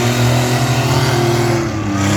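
Demolition derby van engine at a county fair derby in Hoagland, a loud steady rough roar with droning harmonics, sustained without pause throughout.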